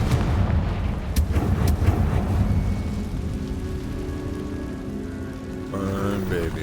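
Confringo fire spell explosions in Hogwarts Legacy, a quick series of sharp booming blasts early on over crackling, rain-like debris noise that thins into a lower rumble and then a rising magical tone.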